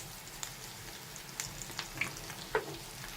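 Shami kababs frying in a pan give off a soft, steady sizzle, with a few small pops and crackles breaking through at irregular moments.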